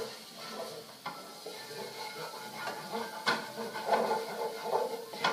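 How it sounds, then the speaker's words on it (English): Chopped garlic sautéing in a pan, a soft, steady sizzle with occasional clinks and stirring scrapes. "You saute that up in there for just a few minutes"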